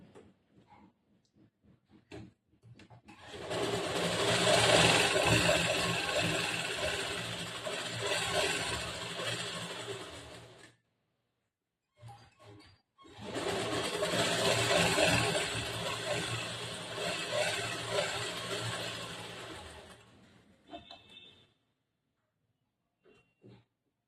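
Sewing machine stitching a narrow folded strip of blouse cloth, running in two long steady bursts of several seconds each, separated by a short pause, close and fairly loud with no talking.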